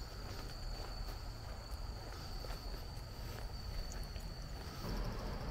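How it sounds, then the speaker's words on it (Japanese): Bell crickets chirping in autumn grass beside a riverside embankment, a faint, steady high-pitched trill running continuously beneath soft outdoor background noise. "スズムシですね。"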